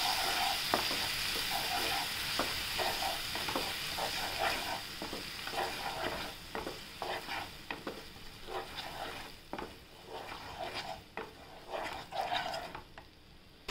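Cluster beans with yogurt sauté in a pan, a close sizzle punctuated by repeated rhythmic stirring scrapes that thin out toward the end.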